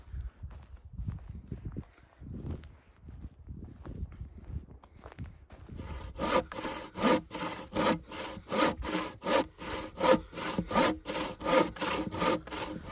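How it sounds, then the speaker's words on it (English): At a campsite by Fofanny Dam Reservoir, Northern Ireland, faint scattered knocks and rustling give way to a steady, rhythmic sawing of wood, loud and close, repeating stroke after stroke. "I can hear some choppings, sawings and stuff right there."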